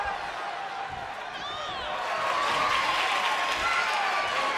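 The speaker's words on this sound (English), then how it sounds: "Taking a moment to get pumped off of this crowd's incredible energy." Arena crowd noise in the WWE 2K24 wrestling video game, a steady broadband roar of cheering and applause that swells louder midway and holds, with a commentator's voice talking over it.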